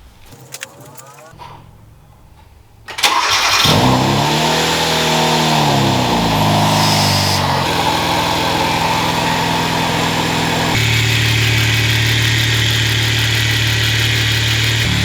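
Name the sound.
Hyundai Veloster Turbo engine starting and running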